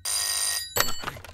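An electronic telephone ring sounds loudly and steadily for about half a second, then cuts off, followed by brief rustling and a few soft clicks as the call is picked up.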